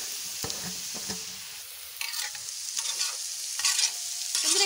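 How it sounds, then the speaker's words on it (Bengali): Papita frying on a hot tawa for street-style chowmein, a close steady sizzle with the scrape and clatter of stirring that grows louder toward the end, no talk. "পাপিটাটা ভাজা করে নেবে।"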